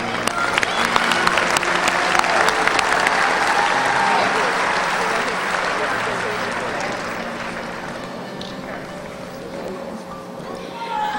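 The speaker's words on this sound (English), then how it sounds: "Let's give all of our High Five chapters a round of applause." A large audience at a state FFA leadership conference applauds, with dense, continuous clapping and voices mixed in that slowly thin out toward the end.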